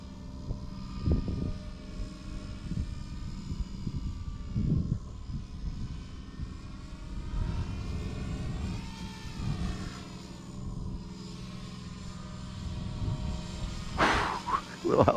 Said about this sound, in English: Little helicopter moves on the corkscrew.